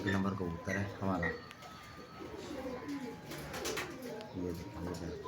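Pigeons coo in low, repeated rounded calls, mixed with other bird chirps and someone talking over them.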